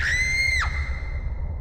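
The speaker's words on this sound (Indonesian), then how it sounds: "Ada yang teriak" A loud, piercing scream in the Ao Oni horror video game, one sustained high cry that holds steady and then drops off sharply, leaving a faint tail.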